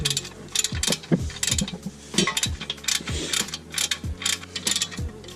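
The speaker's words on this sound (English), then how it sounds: "So now we're going to torque down the bolts on the clutch to 14 foot-pounds of torque." A torque wrench ratchets in quick bursts of sharp mechanical clicks while tightening the clutch bolts on a car, close and loud, with brief pauses between the runs of strokes.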